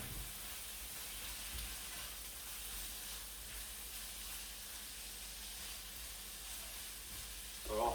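Celery and garlic frying in a pan while being browned off give a steady, even sizzle and hiss throughout, with a brief louder clatter right at the end.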